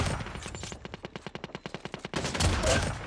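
A burst of rapid automatic gunfire from a new gun in a shooting game cracks out in an even, fast rhythm of about a dozen sharp reports, then gives way to a denser, noisier clatter.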